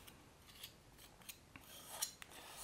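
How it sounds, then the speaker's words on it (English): A tool scrapes a stiff, oily pigment paste of yellow buckthorn lake off a flat surface, giving several short, dry scraping strokes at irregular intervals, close and fairly quiet with no talk. "So let's scrape this off here."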